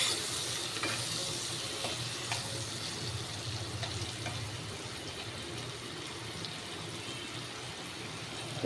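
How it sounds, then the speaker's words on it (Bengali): Onion frying in a pan over a low gas flame makes a soft, continuous sizzle with a low hum beneath it and occasional light clicks, steady and fairly quiet throughout. "পেঁয়াজটা ভাজা হচ্ছে।"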